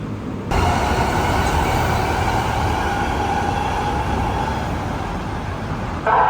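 A loud, continuous roar of heavy traffic rushing past on a busy highway in Manila, steady and close, beginning abruptly after a brief quiet moment.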